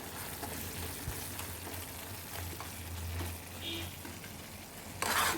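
Palya curry simmering in oil over a low flame, with a steady soft sizzle and bubbling throughout, a brief brighter hiss near the end.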